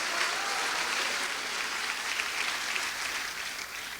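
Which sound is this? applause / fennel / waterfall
applause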